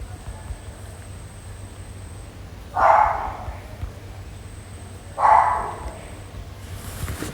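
A dog barks twice, a few seconds apart, each bark short and moderately loud over a low background hum.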